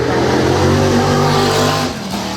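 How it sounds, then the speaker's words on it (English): Racing cars climbing the Goodwood hill at the Festival of Speed, a loud sustained engine roar with shifting revs as the cars pass close by, the noise tailing off slightly at the end. "all the cars coming up the hill now"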